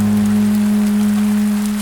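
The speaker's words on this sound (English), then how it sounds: "It was raining that night in the big city, hard enough to wash the slime off the streets" Heavy rain pours over a city street at night, a steady dense patter that stays loud and unbroken for the whole stretch, with a low constant hum running beneath it.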